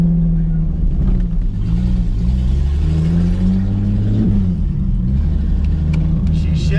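A Datsun 280ZX pulling away on its first drive with a freshly replaced clutch, steady engine drone rising and falling through shifts, heard from inside the car at close range.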